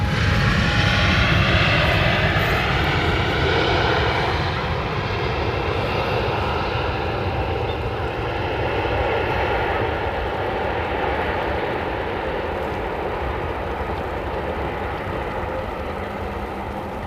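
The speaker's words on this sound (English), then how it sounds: "a big wide body coming in from Cape Town to Amsterdam. This is KLM" A KLM Boeing 777 wide-body jet arriving from Cape Town roars loudly as it lands at Amsterdam Schiphol on the Polderbaan runway, a broad sustained engine rumble that fades slowly throughout.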